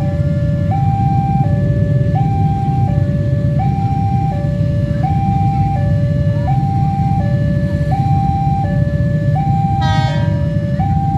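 A JR 205 commuter train leaving Parung Panjang station sounds a loud, sustained two-tone horn that alternates steadily, with a brief metallic squeal near the end.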